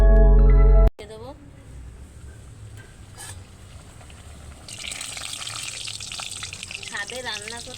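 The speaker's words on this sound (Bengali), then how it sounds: "কড়াইতে তেল বসিয়ে দিলাম আর এখানে লুচিগুলো এবার ছাঁকবো" After a brief burst of music, luchi fry in hot oil in a wok on an outdoor rooftop stove on a windy day, with a sizzle that swells in the second half under a speaking voice.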